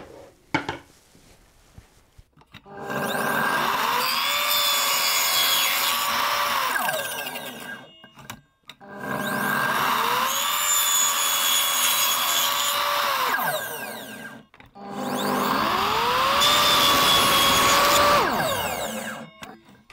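A circular saw crosscuts a piece of wood three times, each pass a loud sustained whining roar of several seconds that spins up, bites through the board and winds down, with short quiet gaps between cuts.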